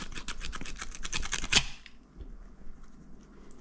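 A rope snips once sharply at close range while a dog-shank knot is being tied, following a run of rhythmic rustling and handling, then quiet room ambience.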